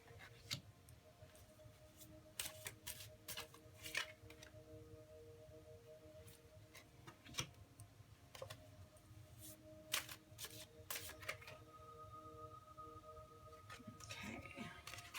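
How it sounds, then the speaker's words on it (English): Tarot cards are shuffled by hand at close range, a steady soft riffling and flicking with repeated sharp snaps, quiet and continuous without speech. "so I'm going to shuffle and get these out for you"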